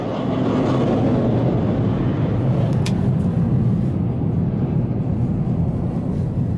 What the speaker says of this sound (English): I see no planes in the sky, but I hear like jet engines